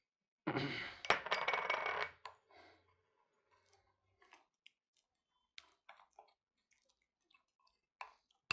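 A spoon mixing honey into Asgandh Nagori powder paste in a small bowl: a short burst of scraping and clinking up close, then scattered faint clicks in a quiet room.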